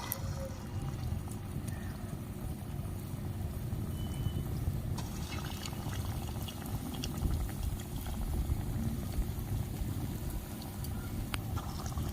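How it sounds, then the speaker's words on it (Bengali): Dahi vada batter fries in hot oil in a wok, giving a steady low bubbling sizzle with faint crackles, continuous and fairly quiet throughout. "কড়াইয়ের তেল গরম হয়ে গেছে এবার আমি ভেজে নেবো"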